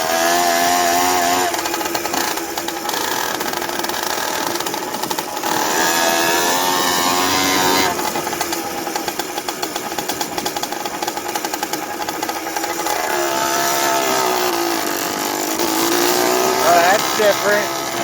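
A two-stroke motorized bicycle engine running on E85 fuel buzzes loudly and close by, revving and wavering in pitch as it warms up.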